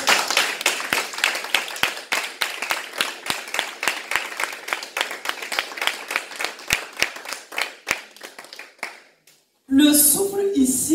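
Worshippers in a church service applaud steadily, a dense patter of sharp hand claps lasting around nine seconds before dying away, followed by a burst of voice and sound.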